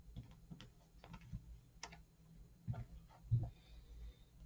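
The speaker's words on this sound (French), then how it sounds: "On va mettre une carte dessus." Tarot cards laid down one by one on a table during a reading, giving soft, brief taps and light slaps at a close distance, a few scattered contacts against a quiet room background.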